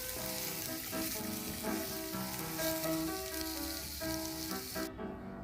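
Sliced onions fry in oil in a pan, producing a steady, moderately loud crackling sizzle with occasional stirring clatter, with no voices over it, until it cuts off abruptly near the end.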